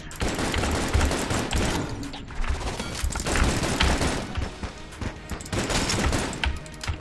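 Sustained rapid gunfire in the video game Enter the Gungeon during a boss fight against a dragon, loud dense volleys with brief lulls and crashing impacts throughout.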